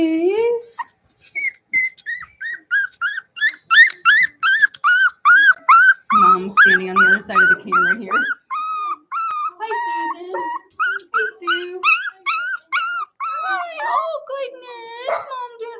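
High, rhythmic whimpers and squeaky yips from young Cavalier puppies repeat rapidly over many seconds, close by indoors, with a brief stretch of deeper whining midway.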